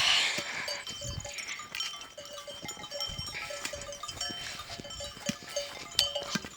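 Flock of sheep on a Turkish farm, scattered bleats and rustling with faint clinking, moderately distant and fairly quiet.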